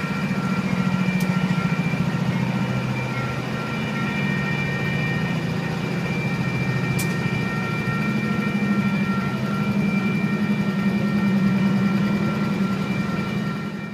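Train locomotive rumbling continuously as it approaches and strikes a truck stuck at a level crossing, a steady loud low drone with sustained tonal hum throughout, no voices.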